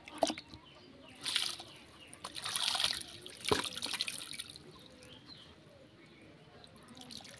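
Small fish such as rocket puti are released into a small backyard pond, making a few soft splashes and trickling drips in short bursts amid quiet surroundings.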